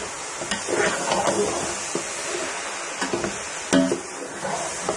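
Grated carrots for gajar halwa being roasted in a pan: soft scraping stirs repeat at irregular intervals over a faint, steady sizzle, with an occasional louder knock of the spoon.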